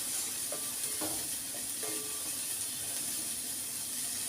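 Beans sautéing in a pan give off a steady, close sizzle throughout, broken by a few scraping stirs near the start.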